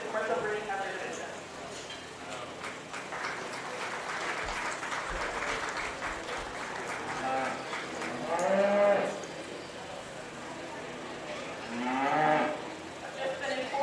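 Cattle lowing at a 4-H beef show during the commercial breeding heifer division, two drawn-out moos rising from a murmuring crowd with faint applause-like rustle throughout.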